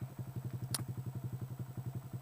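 A motorcycle engine idles close by before the rider pulls away, putting out an even, rapid chugging pulse throughout with one brief sharp click partway through, and no talking.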